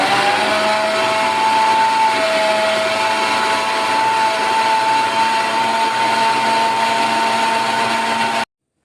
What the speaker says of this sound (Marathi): आता आपल्याला मिक्सर चालू करून दही फेटून घ्यायचं आहे